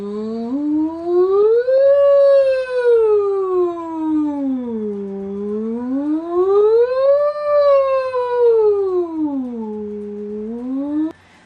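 A single voice glides smoothly up and down in long, continuous wails, mimicking an ambulance siren as a voice therapy exercise; steady, fairly loud, and close, with no other sounds.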